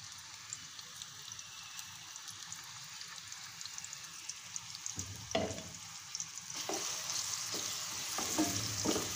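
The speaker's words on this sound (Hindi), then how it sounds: "आयल गर्म हो जाए तो अब हम इसमें बारीक प्याज चॉप की हुई डाल देंगे और इसको गोल्डन ब्राउन कर लेंगे" Finely chopped onions hitting hot oil for lal lobia masala, a faint hiss that rises into a brighter crackling sizzle partway through, with a few soft clinks from the pan and no voices.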